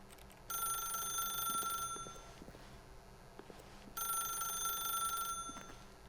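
An old-fashioned telephone in The Stanley Parable video game rings in two bursts of roughly a second and a half each, separated by a pause, bright and insistent over faint room noise with soft footsteps.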